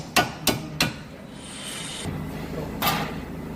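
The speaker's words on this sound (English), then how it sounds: "Tap the bolts out." Three sharp hammer taps knock 18mm bolts out of an accident-damaged Vauxhall Corsa's brake assembly, followed by a scraping shuffle and one more tap, close and clear with no talking.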